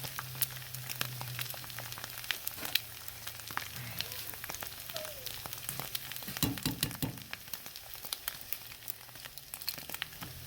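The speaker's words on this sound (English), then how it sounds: "I'm going to go ahead and add my eggs" Eggs cracked into a pan of frying chorizo give a steady, moderately quiet sizzle with a few crackles and faint utensil clicks throughout, no voices.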